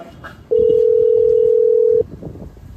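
A single loud, steady telephone tone holds for about one and a half seconds, standing out clearly above muffled background voices and noise.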